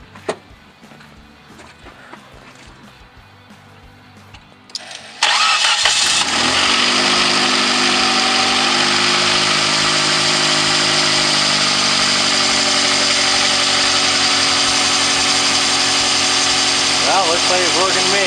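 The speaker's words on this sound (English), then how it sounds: "don't mind the engine noise, it's an old engine" An old 1999 Nissan Sentra engine cranks and catches after a few seconds of quiet, then settles into a loud, steady idle that runs to the end, with a voice talking briefly before it starts.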